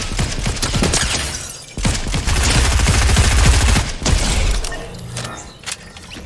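Heavy gunfire in the battle royale video game Fortnite, with rapid automatic bursts and repeated loud shots in dense clusters broken by short pauses.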